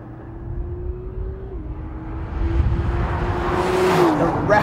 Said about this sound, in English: A rapid, just absolutely ferocious and insane acceleration out of a corner is like nothing else.